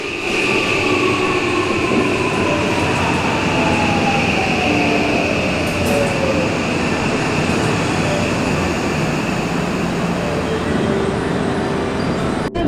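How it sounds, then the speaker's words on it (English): Loud, continuous rumble of a train in motion near Kobe, Japan, with steady wheel noise on the tracks and a faint rising and falling whine throughout. "the train ride only took around 1 hour and one-time transit"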